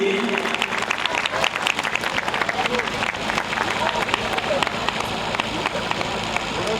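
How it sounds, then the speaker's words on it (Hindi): Audience applause at a Christmas celebration, a crowd clapping loudly and steadily with faint voices and babble mixed underneath. "इन सब के लिए एक बार फिर से जोरदार तालियां बजा दें अच्छे इंतजाम के लिए"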